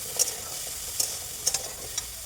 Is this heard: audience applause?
no